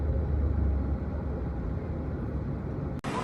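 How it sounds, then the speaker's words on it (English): A long-distance bus travelling to Medellin, Colombia, its steady loud engine rumble and road noise continuous throughout, ending in a brief sharp click. "it was time for a 12-hour bus journey to Medellin, Colombia"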